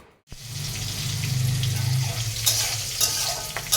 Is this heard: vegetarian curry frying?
yes